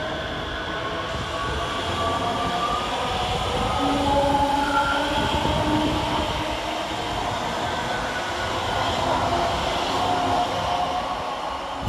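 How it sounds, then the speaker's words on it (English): ScotRail Class 385 electric trains running through Polmont station, a steady loud rumble of wheels and motors with faint tonal whines and squeals, continuous and close throughout. "385-106 and 385-117, working the 1508 Scotrail service from Glasgow Queen Street"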